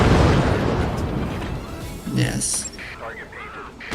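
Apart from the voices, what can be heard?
manually aimed gunfire and explosions in the video game Forts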